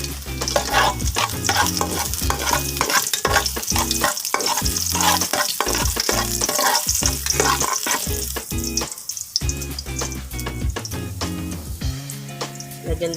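Garlic frying in hot cooking oil in a pan for a clam soup, with steady loud sizzling and repeated stirring or scraping strokes throughout, no talk.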